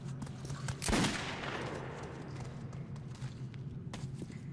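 A shotgun blast in a video game, one loud booming shot with a long decaying tail, followed by steady game ambience and faint scattered clicks.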